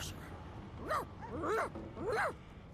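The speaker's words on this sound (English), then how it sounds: "The dog whines and continues pawing at its nose" A frightened dog in Divinity Original Sin 2 whines in three rising-and-falling whimpers, fairly near and soft, with a low game ambience underneath.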